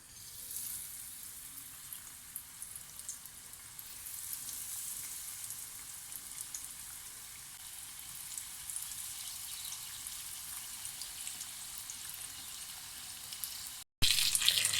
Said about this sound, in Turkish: Artık kızartmaya başlıyorum.